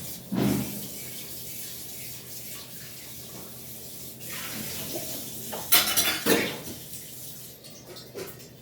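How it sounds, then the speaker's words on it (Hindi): Water runs from a tap while a milk pot is rinsed in a kitchen sink, with clinks of metal against the basin and a louder splash near the end; no talking. "तो ये पहले मैं दूध का भगोना धो के रखूँगी।"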